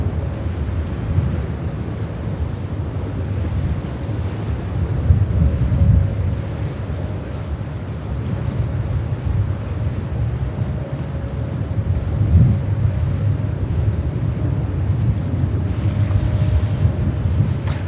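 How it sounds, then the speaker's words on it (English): Strong wind buffeting an outdoor microphone near an airport, a steady low roaring rumble that persists loudly for the whole stretch with slight gusty swells. "Let me know if it's too loud, too scratchy, if the wind is too dominant."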